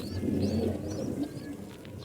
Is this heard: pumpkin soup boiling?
no